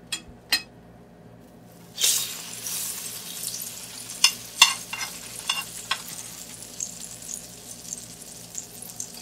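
Oil heating in a pan for a spicy bread omelette, with a steady sizzle starting about two seconds in and a few sharp clinks and stirring scrapes over it, close and moderately loud, no talking.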